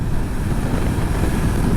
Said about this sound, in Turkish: Belki çok rüzgar var ama idare edin artık.